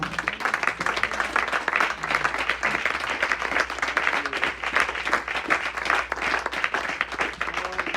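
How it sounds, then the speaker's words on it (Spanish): A church congregation applauding, dense steady clapping from a large crowd filling the room, loud and sustained throughout with faint voices murmuring underneath. "¿Alguien da un aplauso más al Señor?"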